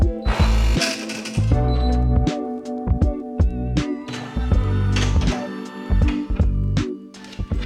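A Brother single-needle embroidery machine running with rhythmic mechanical thunks, whirs and clicks, close and loud, pulsing in regular cycles and briefly quieter near the end.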